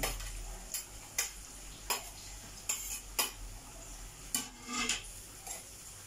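Patola being sautéed in a pan: a metal utensil stirs and scrapes in a steady rhythm of clinks against the pan over a faint sizzle, with no voices.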